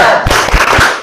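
A group performs a rhythmic 'tepuk semangat' clap chant, loud sharp bursts of clapping landing in a quick pattern of about three beats, close and forceful.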